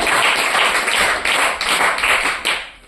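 A congregation claps loudly and steadily at a church sermon, a dense close wash of applause with slight surges, no voices over it.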